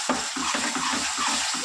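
Fish curry is stirred and sautéed in oil, a close crackling sizzle broken by quick scraping stirs in a rhythmic pattern, with no speech.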